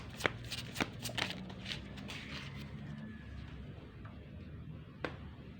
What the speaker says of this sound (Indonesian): Sebentar ya, kartunya jatuh.